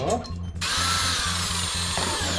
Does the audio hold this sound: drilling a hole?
yes